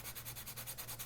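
Rhythmic rasping strokes from sanding the edges of a plastic model kit part, a steady back-and-forth scrape repeating about ten times in close, quiet succession.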